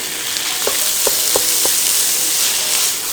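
Minced meat frying with garlic and onions in a pan, a steady loud sizzle throughout with a few brief utensil knocks at the start.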